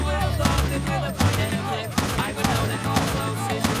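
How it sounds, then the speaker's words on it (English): A .45 caliber pistol fires in a recorded clip, with several sharp shots landing at irregular intervals over a busy, tonal background. "I do have a clip of the .45 caliber pistol."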